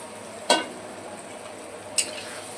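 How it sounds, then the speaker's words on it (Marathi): Mashed roasted eggplant stir-fried with tomatoes in a pan for bharit gives two sharp spatula scrapes against the pan about a second and a half apart, over a faint steady sizzle in a quiet kitchen. "आपण वांगी टाकून दिली, चांगलं आता परतून घ्यायचं आहे आपल्याला"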